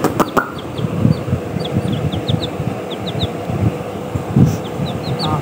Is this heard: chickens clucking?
yes